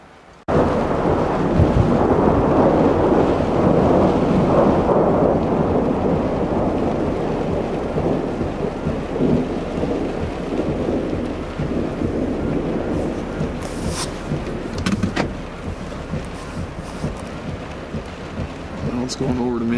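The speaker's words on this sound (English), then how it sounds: "Now it's going over to mainly snow and lots of thunder and lightning." Thunder rumbles during a mixed snow and rain storm near Chimney Rock National Monument, a loud, sustained roll with wind buffeting the microphone and a few sharper cracks later on.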